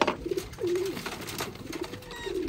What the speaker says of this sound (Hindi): ये हमारे बहुत अच्छे उड़े हुए कबूतर हैं